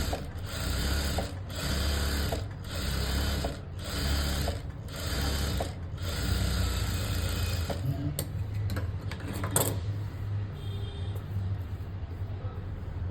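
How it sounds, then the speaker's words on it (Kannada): A sewing machine runs edge stitches along a blouse sleeve in bursts of rapid mechanical clatter, then stops, leaving quieter handling noises and faint clicks. "ಇಲ್ಲೂ ಕೂಡ ಎಡ್ಜಿಗೆ ಸ್ಟಿಚ್ ಹಾಕ್ಕೊಳ್ಳೋಣ"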